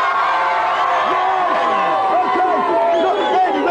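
A television studio audience cheers and whoops loudly for a wrestler guest, with a dense continuous roar of voices and scattered shouts rising over the whole span.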